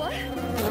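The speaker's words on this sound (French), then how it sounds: "Oh, Phoebe, il y a tellement des abeilles." Buzzing of many bees close by, a steady insect drone that holds throughout the short moment with a brighter hiss near the end.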